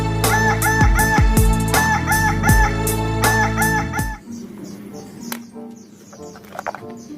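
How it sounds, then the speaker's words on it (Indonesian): A rooster crows repeatedly and loudly over a steady, tonal background, then the sound turns quieter with scattered clucks and short calls. "Widih, ayam jago teman-teman."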